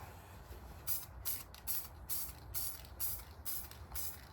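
A rattle can sprays lacquer onto an Opel part in short bursts, about seven quick hissing puffs evenly spaced and fairly close.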